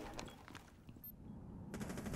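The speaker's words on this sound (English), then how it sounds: "Gunshots." Gunshots in the video game Rainbow Six Siege: a few distant, faint shots, muffled and scattered over quiet game ambience.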